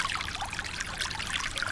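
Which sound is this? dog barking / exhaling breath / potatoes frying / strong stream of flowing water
strong stream of flowing water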